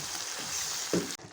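Chicken karahi with yogurt cooks in a pan, a steady, fairly loud sizzle and bubble filling the whole moment without talk, with a brief stir-like knock near the end.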